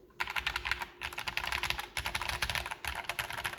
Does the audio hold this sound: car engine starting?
no